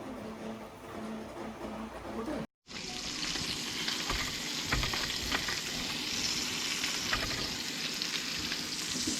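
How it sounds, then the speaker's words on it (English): Duck cooking in a hot pan gives a steady, close, crackling sizzle that runs throughout, with one brief dropout near the start and no talking. "Sizzle, sizzle."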